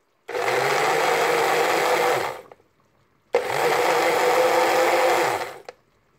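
A blender crushing chili peppers whirs loudly in two steady bursts of about two seconds each, separated by a short silence, with no one speaking.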